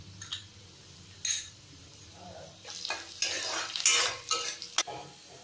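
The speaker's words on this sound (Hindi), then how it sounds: "अब हम इसे थोड़ी देर फ्राई करेंगे।" Onion and green chilli frying in a pan while being stirred: quiet sizzling beneath repeated scraping and clinking of a spoon against the pan in irregular bursts, close and moderately soft.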